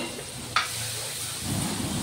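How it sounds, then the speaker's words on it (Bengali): Ground cumin, chili and turmeric powder sizzle softly in hot oil in a wok, a quiet steady frying hiss with one brief clink partway through. "কড়াইতে জিরে গুঁড়ো, লঙ্কা গুঁড়ো, হলুদ গুঁড়ো দিয়ে দেবো। যতক্ষণ না মশলা থেকে তেল ছাড়ছে ততক্ষণ কষে নেব।"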